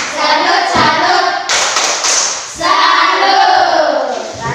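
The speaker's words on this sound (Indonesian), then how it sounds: "Coba Safina pimpin tepuk salut untuk Rostian." Children in a classroom clap a rhythmic salute in quick unison, their young voices chanting along close and loud, with a short stretch of clapping alone in the middle.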